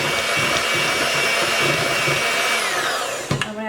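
An electric mixer whirs steadily as milk is mixed into chocolate cake batter in a bowl, a continuous motor whine that cuts off near the end with a couple of clunks.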